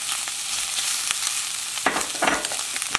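Eggs and green garlic sprouts stir-fried in a wok, a steady close sizzle with scraping stirs of the spatula, busier tossing toward the end.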